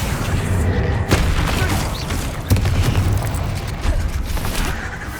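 The Bombarda blasting spell in Hogwarts Legacy, with loud, dense booming explosions and rumbling bursts that fill the clip continuously and leave no quiet moments.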